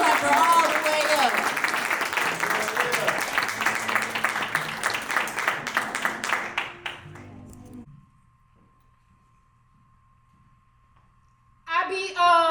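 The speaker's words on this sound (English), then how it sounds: "make sure you clap her all the way up." An audience at a spoken word poetry event applauds as a poet is welcomed to the stage, loud clapping with cheers that fades out into near silence before a voice begins speaking.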